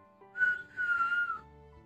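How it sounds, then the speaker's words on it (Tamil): A single person whistles a short two-part tune, the first note brief and the second held longer, clear and close in a quiet setting. "யார் அது விசில் அடிக்கிறது"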